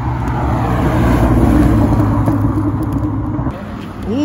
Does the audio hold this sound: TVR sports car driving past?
yes